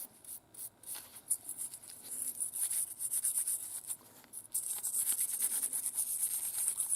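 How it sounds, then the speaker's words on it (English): A brass brush scrubs a brass carburetor float in quick rhythmic back-and-forth strokes, close up and fairly quiet, with brief pauses between bursts of bristly rasping. "I tend to use the brass brush for most of the initial cleaning like you see here."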